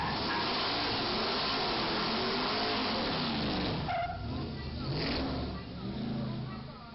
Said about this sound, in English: He turned left and he was burning out as he did.